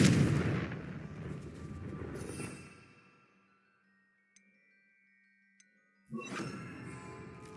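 A Confringo fire-blast spell in Hogwarts Legacy fires as a loud crackling burst that rings out and fades. Two faint ticks follow in near silence, then another sharp blast hits near the end.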